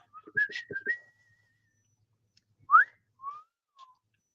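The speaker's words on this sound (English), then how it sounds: "I don't think the cockatoo will like a whistle." A person whistles to a cockatoo in a few short melodic phrases, a quick run of rising and falling notes followed by a couple of sliding tones, close and clear against near silence.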